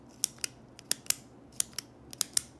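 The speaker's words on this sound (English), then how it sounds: "this one has a crazy click to it" A Parker Jotter ballpoint pen with a stiff, overly strong spring clicks repeatedly: about a dozen sharp, crisp, close-up clicks in uneven pairs and singles, with quiet gaps between them and no talking.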